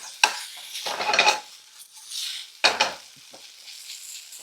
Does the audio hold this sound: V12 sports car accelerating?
no